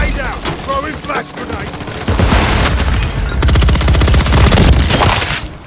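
Rapid automatic gunfire in a Call of Duty Modern Warfare 3 multiplayer match, dense bursts of loud close shots with booms and game effects, continuing almost nonstop across the span.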